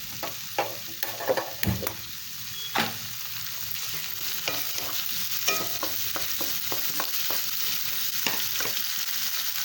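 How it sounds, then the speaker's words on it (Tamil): Onions and tomatoes sautéing in a pan for Thanjavur-style mutton kulambu, a steady close sizzle with scattered stirring scrapes and clicks, loudest at the start and then settling into an even fry. "தக்காளியும் வெங்காயமும் ஓரளவு நல்லா வதங்கிடணும்."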